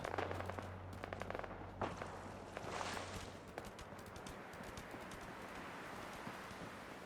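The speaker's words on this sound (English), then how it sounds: "But I hear some shooting." Gunfire in the video game Fallout 4, a quick run of sharp cracking shots in the first few seconds over a steady ambient hum, then a long stretch of quieter background noise with no further clear bursts.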